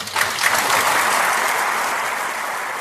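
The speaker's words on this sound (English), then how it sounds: "that applause went on for quite some time after he referenced the true North strong and free from our anthem" Sustained applause from a large audience in a formal chamber after King Charles's throne speech, a dense steady clatter of many hands rising quickly and holding at an even level throughout.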